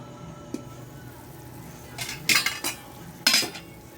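A pot of tinolang manok, a Filipino chicken and green papaya soup, gets its lid set back on, giving two or three bright clattering metal clanks close by over a quiet kitchen background.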